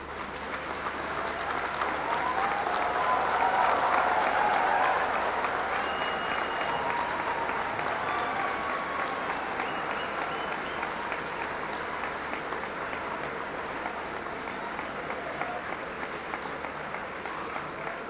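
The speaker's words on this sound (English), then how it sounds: "Please join me in extending a warm round of applause." A large audience at a university convocation ceremony applauds steadily, a dense even wash of clapping that swells briefly early on and then continues at a constant level.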